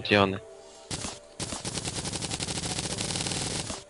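Gunfire in the Terraria video game, rapid repeated shots in a fast steady rhythm after a brief opening sound, loud and continuous to the end.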